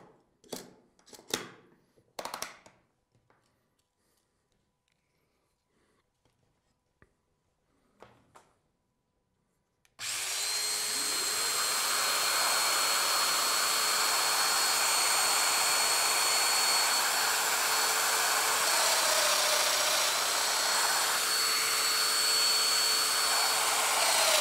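A Festool Domino DF 500 joiner cuts timber clamped to an MFT table, a steady loud motor whine running continuously for about fifteen seconds after a quieter stretch of handling knocks.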